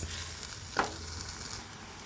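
Prawns and shapla pata fish cooking together in a pan give a steady, soft frying sizzle with one brief stirring scrape near the middle and no talk.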